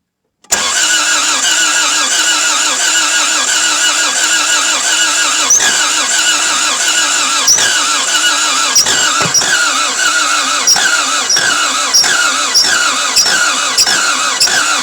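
A Toyota MR2 AW11 engine cranks and catches, then runs roughly and stumbles with uneven pulses and faint squeals, loud and close throughout with no talking.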